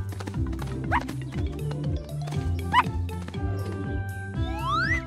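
A small cartoon dog barks in a few quick yappy bursts beside a cleaning truck, mixed into busy music and sound effects with rising whistle-like tones.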